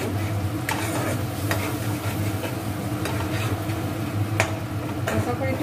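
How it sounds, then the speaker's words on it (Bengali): A spice paste for bagun basanti sizzles in a frying pan as a spoon stirs it, giving a steady frying hiss broken by occasional scraping clicks and taps against the pan, close up. "পেস্টটা দিয়ে আমি হালকা করে একটুখানি নাড়াচাড়া করবো।"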